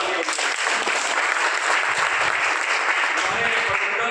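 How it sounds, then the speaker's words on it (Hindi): Loud, sustained applause fills the hall at a special executive meeting of the JDU party in Patna, a thick continuous roar of many hands clapping at once, with no pause. "एक जोरदार तालियां।"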